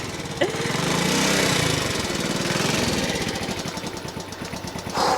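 A Honda Cub C90 motorcycle engine runs steadily, a loud, continuous buzzing putter close by, with a brief spike near the start and a short surge near the end.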